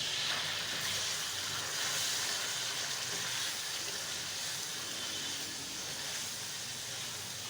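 Minced keema with turmeric and garam masala sizzling in a pan, a steady, loud hiss that holds evenly throughout with no talking.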